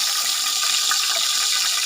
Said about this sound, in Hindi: 1/4 कप पानी का शामिल करेंगे इसके अंदर।